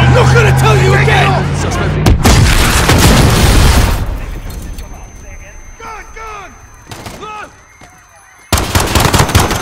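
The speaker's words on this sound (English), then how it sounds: "There's been a detonation at Piccadilly Circus." An explosion in a street scene at Piccadilly Circus, London, in Call of Duty: Modern Warfare: loud, booming blasts and crackling gunfire, then shouting voices and screams over lingering noise, and another sudden burst at the end.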